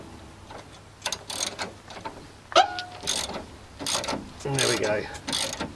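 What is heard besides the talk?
ratchet turning on a Nissan 350z top mount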